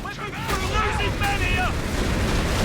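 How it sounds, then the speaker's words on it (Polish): Artillery barrage explosions rumble in a Company of Heroes 3 battle, heavy low booms and noisy blasts rolling continuously under game effects and a voice talking over them. "Podwójny ostrzał."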